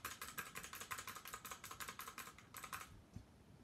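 Computer keyboard keys clatter in a quick, even run of close, crisp taps for about three seconds, then stop, leaving quiet room tone.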